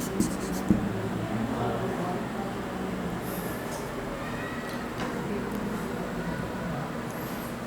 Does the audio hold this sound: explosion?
no